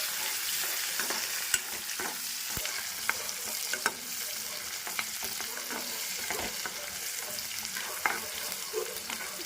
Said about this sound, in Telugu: ఇప్పుడు కరివేపాకు వేస్తాం కదా, ఇలా మనం ఫ్రై చేస్తాం.